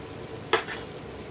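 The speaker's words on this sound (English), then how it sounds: "Alright, now we got our quinoa pretty much done. I'm going to go ahead and add it in." Cooked quinoa drops into pork frying in a pan, making one short burst of sizzle over a steady background hiss of cooking.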